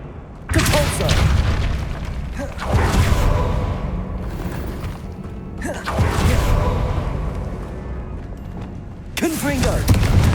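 Depulso spell blasts in the Hogwarts Legacy video game land as deep, booming whooshes, several heavy hits spread across the stretch with rumbling tails between them, loud and close.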